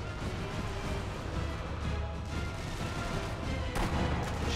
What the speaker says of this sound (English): they're shooting everywhere